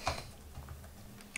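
Quiet keystrokes on a computer keyboard as a Scrapy crawl command is entered, a short, uneven run of light clicks with no voice.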